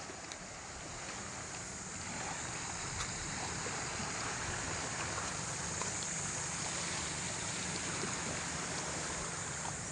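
Choppy sea water washes and churns around a fishing boat in a steady, fairly quiet broadband rush with no voices.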